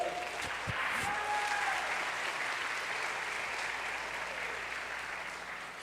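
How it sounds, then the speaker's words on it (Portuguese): Church congregation applauding together at a Portuguese-language worship service, a steady dense wash of clapping that stays loud throughout and tapers slightly at the end, with a faint voice briefly heard near the start. "Dê um aplauso mais uma vez ao Senhor."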